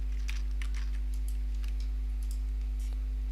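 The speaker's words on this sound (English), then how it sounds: "click on that, middle mouse click here" Light mouse and keyboard clicks come in an irregular scatter over a loud steady electrical hum while someone works at a computer setting animation keyframes.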